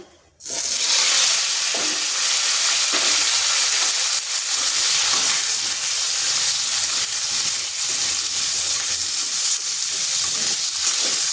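Potatoes sizzle in hot oil with dried red chili, whole cumin, cloves, cardamom and a piece of cinnamon, a loud steady hiss and crackle that starts abruptly and holds for the whole stretch, with no talking.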